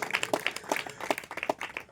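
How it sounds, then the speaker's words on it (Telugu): A church congregation claps in quick rhythmic bursts, moderately near, with no voices. "చప్పట్లు కొట్టి గట్టిగా ప్రైజ్ ది లార్డ్"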